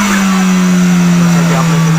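A car engine revs hard with a turbo whistle fitted to the exhaust, giving a loud, sustained droning whine with a steady pitch. It stays close and fills the short burst.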